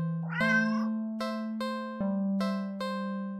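A cartoonish cat meows in a video game, a long rising mew followed by several short, evenly spaced chime-like tones over a steady sustained hum.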